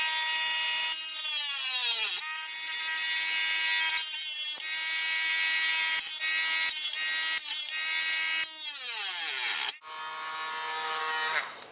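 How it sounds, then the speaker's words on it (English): A Dremel rotary tool cuts into a Delta 78 lens array in loud, close bursts of high whine. The pitch drops and climbs as the tool bites and frees up, with brief gaps between cuts. "Now you do want the Dremel."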